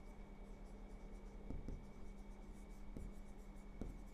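Pen scratching on paper while working conic section problems in a maths lesson, faint soft strokes with a few sharper taps, heard alone over quiet room hum.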